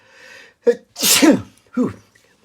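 A single loud sneeze with a short intake of breath before it, followed by a brief exhale, close and otherwise quiet.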